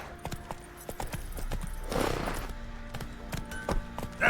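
Roach, a horse in The Witcher 3, clip-clops along at a steady walking rhythm. The hoofbeats are close and moderate in volume, with a brief rushing swell in the middle and a short whinny at the end.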